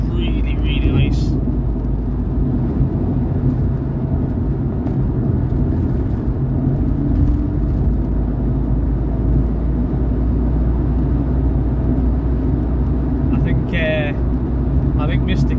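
A Nissan Skyline R33 GTR engine drones at a steady, loud, low rumble from inside the car while driving, with faint chirping sounds near the start and end.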